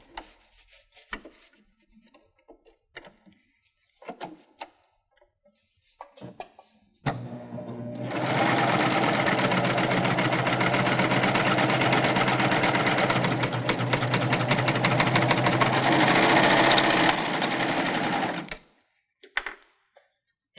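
A Baby Lock Euphoria sewing machine runs steadily for about eleven seconds, stitching through folded fabric, after a stretch of quiet handling noises; the motor hum and rapid needle chatter are close and loud, then stop abruptly.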